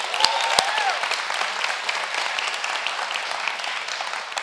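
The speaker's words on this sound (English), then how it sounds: "So can we give all of them a round of applause?" A church congregation breaks into sustained applause, an even, moderately loud wash of many hands clapping with a couple of sharp knocks near the start.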